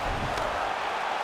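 A crowd at a UFC 5 video game bout cheers and roars in a dense, loud, continuous wash with no gaps.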